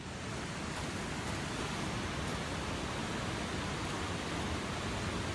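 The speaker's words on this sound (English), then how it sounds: "Waterfalls." Steady broadband rush of a waterfall in The Planet Crafter, loud and unbroken from start to finish with no voices over it.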